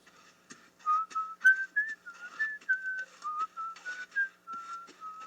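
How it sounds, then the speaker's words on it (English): A lone person whistles a nervous, wavering tune in short rising and falling phrases, faint and close, with no other sounds around it. "he tried to whistle to bolster himself"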